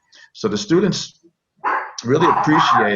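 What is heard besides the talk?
dog barking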